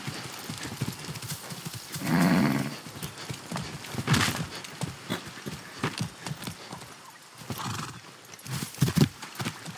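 A horse in the video game Far Cry 6 whinnies loudly several times while its hooves clip-clop in a steady rhythm underneath, with occasional snorts between the calls.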